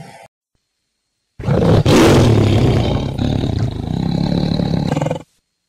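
A loud recorded tiger roar from a toy tiger bursts out after a short silence, rumbling and growling for several seconds before cutting off sharply.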